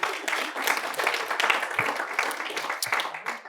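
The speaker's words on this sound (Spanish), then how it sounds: "dense un aplauso fuerte" Applause breaks out from a church congregation during a doctrine teaching, a dense, fairly steady wash of many hands clapping with some louder individual claps, sustained for a few seconds at moderate loudness.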